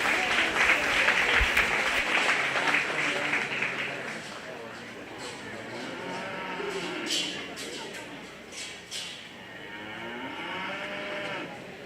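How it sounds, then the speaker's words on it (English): Applause from the audience at a 4-H/FFA county cattle show after a class of county-raised heifers, a broad wash of clapping that fades over several seconds while cattle moo nearby and voices carry in the barn. "Let's give this class of county raised heifers a nice round of applause."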